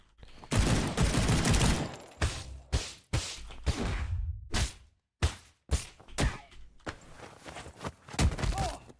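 Gunfire from an in-development video game's gun executions, arriving as repeated loud shots and bursts separated by short silences. Whooshes and thuds are mixed in among them.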